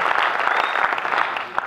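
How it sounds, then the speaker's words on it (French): A hall audience claps loudly and steadily, a thick wash of many hands close by with faint voices mixed in underneath. "demander à tout le monde et à tous d'applaudir très fort pour vous-même"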